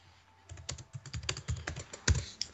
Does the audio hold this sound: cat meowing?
no